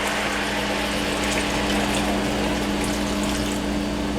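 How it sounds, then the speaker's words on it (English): Two cups of water poured into a pot of Jamaican stew pork, a steady continuous gush of liquid with a low hum underneath, heard alone without talk. "I'm going to go ahead and add 2 cups of water in here."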